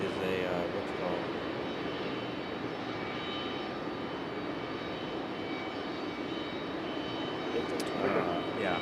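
An Airbus A319 jet at Raleigh-Durham International Airport produces a continuous engine roar, fairly loud and steady, while people talk over it.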